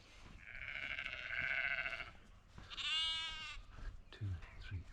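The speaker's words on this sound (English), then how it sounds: "last quick walk around the sheep, make sure everything's happy, make sure I can see everybody" Sheep on a farm bleat in long, loud, wavering calls close by, two distinct cries in a row, followed by shuffling sounds.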